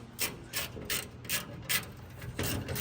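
A hand ratchet clicks in quick, close bursts while loosening a bolt on an old Peterbilt truck, with about seven rhythmic ratcheting strokes in under three seconds.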